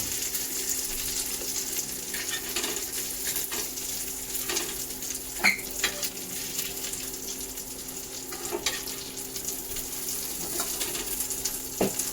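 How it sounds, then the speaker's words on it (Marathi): Prawns tawa frying on a hot griddle, a continuous close sizzle and crackle with occasional sharp pops and utensil clicks, steady throughout with no talk. "आपली तवा फ्राय कोळंबी झालेली आहे"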